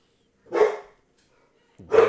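Two single dog barks, about a second and a half apart, fairly close and clear against a quiet background.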